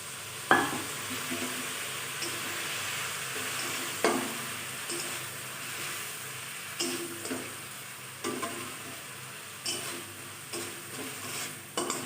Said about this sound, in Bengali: সামান্য পরিমাণে জল দিয়ে মশলাটা আমি ভালো করে কষিয়ে নেব